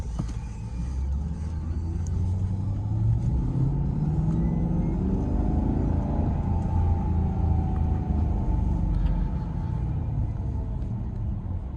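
A 2009 Maserati Quattroporte S Executive GT drives in manual mode, giving a steady, loud engine rumble with a slow rising and falling pitch sweep as it pulls through the gears, heard from inside the car.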